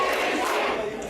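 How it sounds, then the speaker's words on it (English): A dense, loud wrestling crowd at the London Eye event roars and chants in unison, a continuous wall of massed voices filling the arena. "the crowd chanting, "This is it.""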